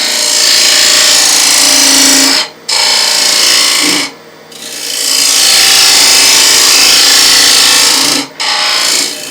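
A wood lathe spins a bowl while a gouge takes cuts, giving a loud, continuous rough scraping hiss close by, broken by three brief gaps as the tool lifts away.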